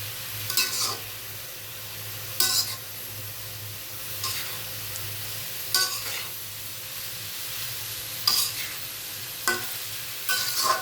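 Small shrimp stir-frying with coriander, cumin, turmeric and chilli in an uncovered pan, a continuous sizzle punctuated every couple of seconds by scraping stirs of the spoon.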